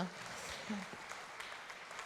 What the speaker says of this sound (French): on vous applaudit tous